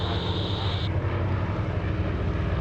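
Catalina flying boat at an air show retracting its floats: a broad, steady engine roar heard from a distance outdoors. A high whine cuts off early, and the engine rumble carries on alone without talk.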